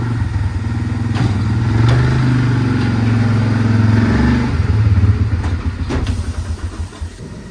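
A quad bike engine drones loudly and close as it pulls away, a steady mid-pitched hum that rises slightly in pitch, then grows rougher and fades somewhat near the end.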